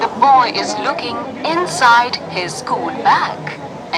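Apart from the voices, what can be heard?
No distinct noise like a dog, phone or traffic.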